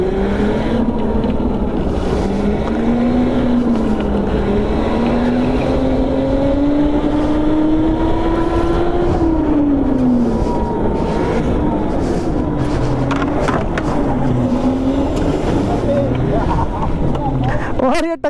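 Go-kart engines racing around an indoor track at a mall in Gurgaon, with a loud, constant droning whine that rises and falls in pitch as the karts speed up and slow down, and a voice speaking over it.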